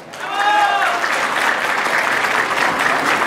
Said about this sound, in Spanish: póngale el aplauso